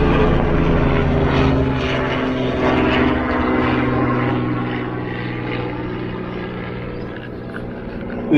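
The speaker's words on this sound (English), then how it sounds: "there's like helicopters flying over every 5 minutes here this morning" A helicopter flies over during major flooding on the Mary River at Gympie, its rotor and engine a loud, steady rumble with rhythmic chopping that slowly fades as it passes.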